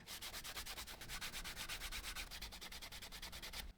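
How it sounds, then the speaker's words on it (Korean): Rapid, steady back-and-forth scraping of sandpaper on the edge of a vegetable-tanned leather card wallet, close and fairly loud, in quick even strokes with no talking. "사포질을 한번 해줘야 할 것 같습니다"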